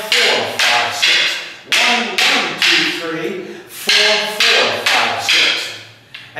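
Rattan sticks striking together in a Filipino martial arts X drill, a steady run of sharp, close wooden clacks in quick rhythmic bursts of two and three, with a voice counting along underneath.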